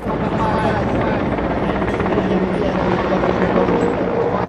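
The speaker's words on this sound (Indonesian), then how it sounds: "Wah, helikopter." Steady, loud whirring rotor noise like a toy helicopter, droning evenly throughout with a dense, rushing texture.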